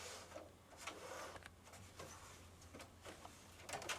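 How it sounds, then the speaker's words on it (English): A home sewing machine stitches a buttonhole on its own for a cushion's button closure: a steady, moderately quiet mechanical whir with a fast, even ticking rhythm and a low hum underneath, continuing without pause. "machine will finish the rest of the buttonhole on its own"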